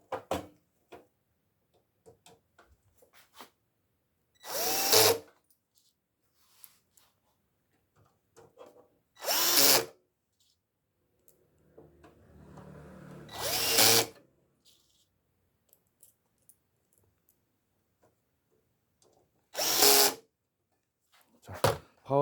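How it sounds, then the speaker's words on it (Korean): Power screwdriver driving the four screws that fasten a PC power supply, four short whirring bursts spaced several seconds apart, separated by quiet handling clicks and faint rustling. "파워는 나사 4개로 고정이 됩니다."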